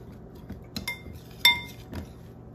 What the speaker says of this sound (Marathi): हे छान मसाला आपण मिक्स करून घेऊ.